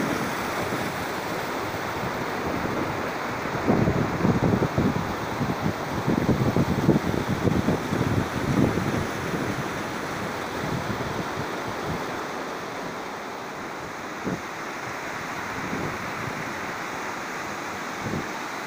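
A steady rush of water gushing down a mountain stream gorge fills the scene, a broad continuous roar with brief louder surges, close by and without voices.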